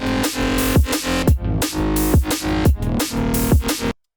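Drum and bass production mix with punchy drums stacked over a low plucked bassline, steady driving rhythm with repeated kick and snare hits and sharp transients, loud and dense throughout before cutting off abruptly at the end.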